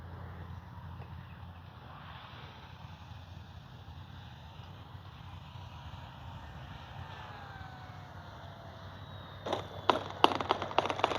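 A Durafly Tundra V3 RC bush plane whines faintly on approach, its small motor droning steadily, then a cluster of sharp thumps and clatter near the end as it touches down and bounces.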